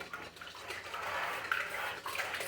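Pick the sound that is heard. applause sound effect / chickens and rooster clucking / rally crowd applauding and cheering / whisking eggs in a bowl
whisking eggs in a bowl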